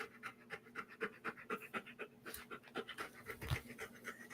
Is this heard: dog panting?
yes